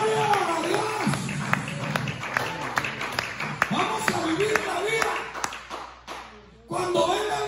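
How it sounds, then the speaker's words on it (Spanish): Church congregation clapping in rhythm during a Spanish-language worship service, a steady run of claps filling the room with singing and voices mixed in, breaking off briefly near the end before resuming. "Démosle palmas al Espíritu Santo de Dios"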